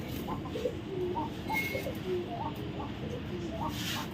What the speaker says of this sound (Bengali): এটা একটা লাল পাখি একটা নর কবুতর